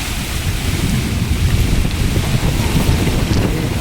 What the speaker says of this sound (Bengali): এত বৃষ্টি এত বৃষ্টি